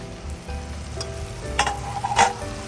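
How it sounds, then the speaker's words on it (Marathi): Eggplant, potatoes, beans and carrots sizzle and fry steadily in hot oil, with a couple of brief louder crackling bursts as the vegetables are stirred; no talking. "घेतलेले वांगे, बटाट्याला आणि शेंगा, गाजर याला आपण याच्यामध्ये सोडून देऊया।"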